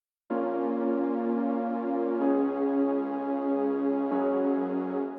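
Warm, sustained synth pad chords layered from Logic's sampler, VPS Avenger and Serum swell in and hold steadily, shifting to new chords twice, smooth and full with no voices.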